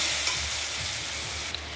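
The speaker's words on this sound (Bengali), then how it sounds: "দেখো নাড়াচ্ছি আমি এখানে" Potatoes crackling and frying in a pan for aloo bhaja, a continuous close sizzle with soft stirring scrapes underneath.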